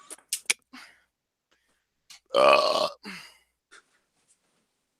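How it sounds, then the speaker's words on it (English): A single loud, drawn-out burp sounds up close, preceded and followed by a few short clicks and breathy noises in an otherwise quiet room. "he burped so loud"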